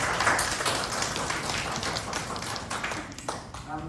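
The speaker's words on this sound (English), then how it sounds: "Everyone please applause her" An audience at an academic lecture claps to welcome a speaker, a dense patter of many hands that carries on steadily and thins toward the end, with some talk underneath.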